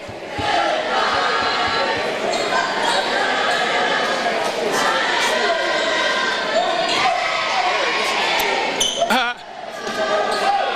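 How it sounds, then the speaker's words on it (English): A crowd chants and cheers in a gym during a high school boys basketball game, London versus Licking Valley, a loud sustained roar with claps and shouts and a commentator talking over it. "That's a cheer they used to do when Cheryl played"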